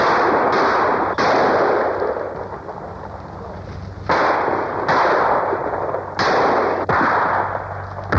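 Loud, close gunshots ring out in a winter tree plantation where squirrels are shot, several sharp cracks at irregular intervals, each trailing into a long echoing decay.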